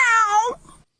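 A single cat meow rings out clearly in a quiet classroom, a drawn-out tonal cry that falls off sharply and ends in silence.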